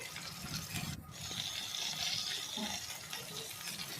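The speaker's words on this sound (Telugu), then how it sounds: "హాఫ్ గ్లాస్ వాటర్ యాడ్ చేసుకున్నాను" Half a glass of water pours into a pan holding soy sauce, chilli sauce, vinegar and red chilli sauce, making a steady nearby splash and gush that lasts several seconds with no voices.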